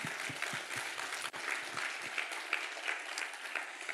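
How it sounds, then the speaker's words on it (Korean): A large congregation at a Korean mountain prayer retreat revival meeting bursts into sustained applause, dense rapid clapping filling the whole stretch with no speech on top. "박수"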